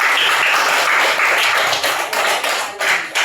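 Children in a classroom clap together for a classmate, a dense, steady patter of many small hands that stays loud for a few seconds and thins slightly toward the end.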